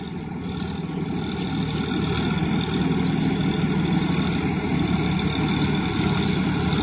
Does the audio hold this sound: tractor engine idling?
yes